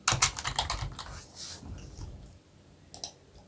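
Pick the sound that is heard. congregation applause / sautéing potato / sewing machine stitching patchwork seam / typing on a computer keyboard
typing on a computer keyboard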